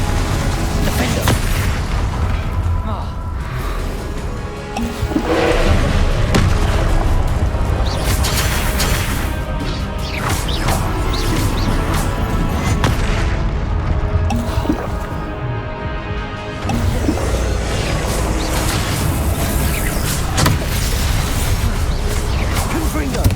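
Spell blasts and booming explosions from combat in the video game Hogwarts Legacy, a dense, loud, continuous barrage of impacts and magical bursts with a voice shouting spell names throughout.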